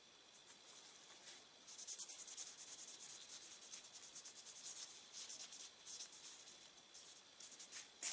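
Steady faint scratchy rubbing of a cotton Q-tip working over the parts of a .45 caliber 1911 semi-automatic pistol during cleaning, continuous close strokes with no talking.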